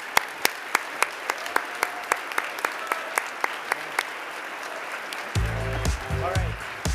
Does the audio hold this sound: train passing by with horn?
no